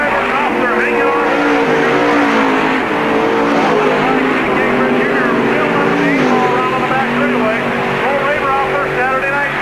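NASCAR stock cars racing at Park Jefferson Speedway in 1997, loud engines roaring and revving continuously beneath a commentator talking over the action.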